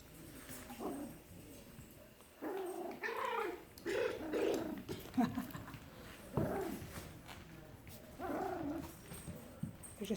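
Five-week-old puppies from a litter of ten growl and whine in soft, intermittent bursts, quiet and close by, with faint background murmur between the sounds.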